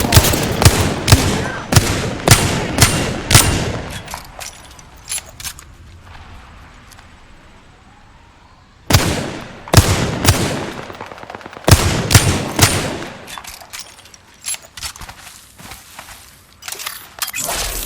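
Gunfire in the Apex Legends video game, loud rapid bursts of automatic shots in dense clusters, a pause with quieter sounds, then more heavy volleys of shooting close by.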